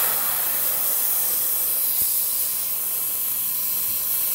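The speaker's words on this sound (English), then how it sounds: "so I'm basically going to spray out the leftover of the orange." Steady continuous hiss of an airbrush spraying out leftover orange paint, even and unbroken throughout, fairly close with no voices.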